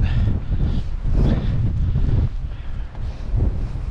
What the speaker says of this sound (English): we're sheltering behind a boat because it's pissing down with rain and windy.